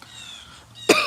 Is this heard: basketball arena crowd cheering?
no